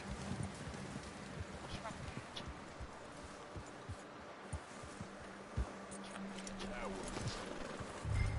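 Horse hooves clip-clopping steadily on a dirt path in Red Dead Redemption 2, moderately close under light rustle and wind, with voices talking over them.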